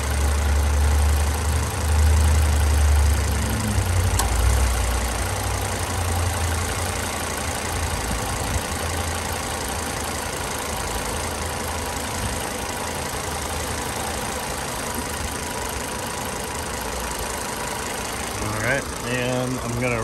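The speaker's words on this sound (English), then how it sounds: "gonna stand here for a moment, let you hear it run and idle" A 2004 Volvo XC70 Cross Country AWD engine runs and idles steadily, a continuous low rumble heard close up for the whole stretch with a little faint talk near the end.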